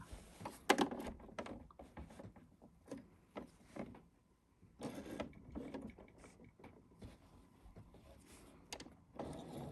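A sewing machine stitches a pocket bag to the seam allowance while making regalia, a quiet mechanical whir in several short bursts separated by pauses, heard close and faint.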